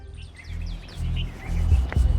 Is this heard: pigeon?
yes